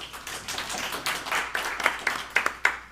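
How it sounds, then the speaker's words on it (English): A small audience claps for a performer at a show, starting as a soft patter and ending in a few sharper, distinct claps near the close. "So give Will a round of applause"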